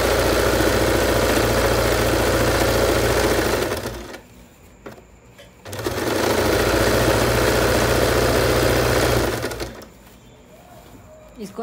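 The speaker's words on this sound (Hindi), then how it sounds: "इसको इसी तरीके से सिलाई लगाएंगे, पीछे से हम खींचेंगे और आगे से हम मशीन को कपड़े को खींचेंगे" Sewing machine stitching elastic onto fabric, running in two loud, steady bursts of rapid mechanical whirring separated by short pauses.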